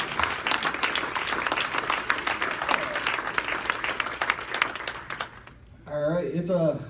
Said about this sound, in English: Please, a big round of applause for Mark.